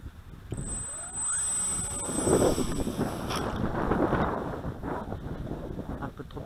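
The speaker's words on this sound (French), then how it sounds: "Le vent souffle." Gusty wind roars and buffets the microphone in uneven surges at a model aircraft test flight, with a faint high whine passing early on.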